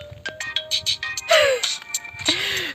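A mobile phone ringtone plays a bright electronic melody of short repeating tones, loud and close, with sliding chirps mixed in.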